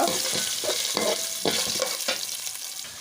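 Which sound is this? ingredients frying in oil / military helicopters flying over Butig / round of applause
ingredients frying in oil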